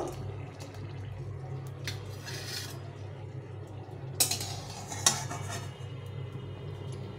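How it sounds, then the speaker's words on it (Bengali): Fried green chillies are lifted out of a hot pan, with a couple of sharp metal utensil clinks and scrapes over a steady low frying hiss, close by. "এই লঙ্কাগুলোকে এখন উঠিয়ে নেব।"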